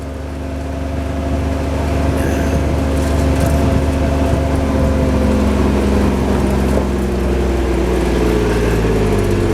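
A tractor engine idles at a sawmill, a steady low rumble with a throbbing mid-range drone running loud and unbroken throughout.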